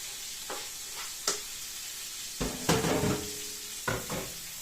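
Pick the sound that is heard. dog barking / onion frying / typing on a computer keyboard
onion frying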